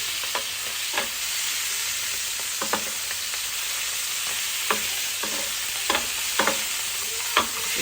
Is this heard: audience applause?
no